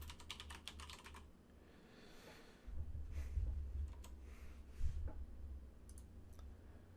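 Typing on a computer keyboard while entering notes into map software: bursts of quick, light key clicks, close and faint, with pauses and a low background hum.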